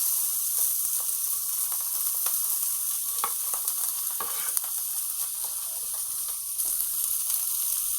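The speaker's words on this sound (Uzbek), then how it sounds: "Kotletni qovurib olamiz." Round meat cutlets frying in a pan, a steady moderate sizzle with faint crackles and pops and no talking.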